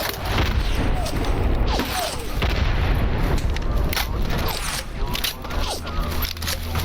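A flashbang grenade in the game Stalker Anomaly bursts with a booming blast amid rumbling combat noise, while someone talks over the action.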